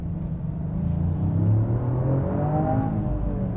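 A 2020 Toyota GR Yaris pulls away hard in first gear, its engine note rising steadily in a loud, continuous rumble and whir heard from close by with no talking.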